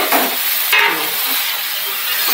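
Onion, garlic and green chili hitting hot oil as a tempering for boiled greens, a loud close hiss and crackle with a brief burst near the start, then steady sizzling alone.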